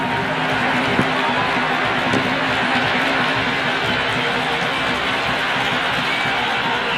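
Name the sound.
raucous cricket crowd noise at IPL match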